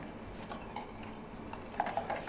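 A ladle stirring mango milk ice cream mixture, a soft steady scraping and swishing with a few light clinks, close and moderately quiet.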